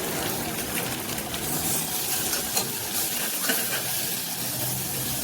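Onions fry in hot oil with mint and coriander added to the pan, giving a steady, loud sizzle with bubbling and stirring close by, and no talk over it.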